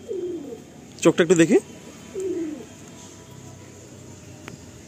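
A Madrasi pigeon coos softly in a loft, a few low rolling coos heard close by, while someone speaks briefly in between.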